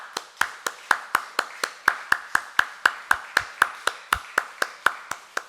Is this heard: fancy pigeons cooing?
no